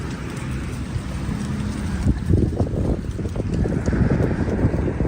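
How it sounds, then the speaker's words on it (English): Steady wind roars outdoors in Miami, a broad low rumble buffeting the microphone with gusts that swell partway through. "It's got windy out here today."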